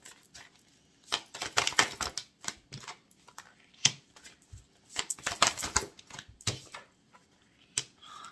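A deck of tarot cards is riffled and shuffled in several crisp, rattling bursts, separated by short quiet gaps and single snapping clicks, close by with no voices.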